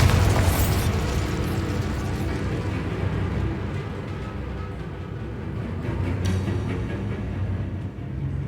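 Bombarda blasting spell in Hogwarts Legacy goes off as a loud explosive boom, followed by a long rumbling, crackling roar that slowly fades, with a brief sharp burst near the end.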